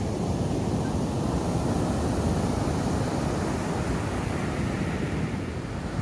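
Steady, loud rush of Pacific surf at Florence, Oregon, with wind buffeting the microphone, a continuous wash of breaking waves and no voices.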